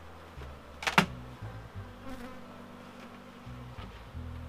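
Honey bees buzz softly around a busy beehive during an apiary inspection, a steady faint hum broken by a sharp close knock near the start and occasional louder passes of bees flying near.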